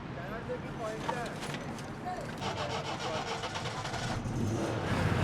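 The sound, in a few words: Iranian national car engine running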